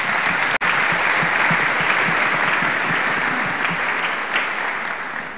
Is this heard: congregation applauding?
yes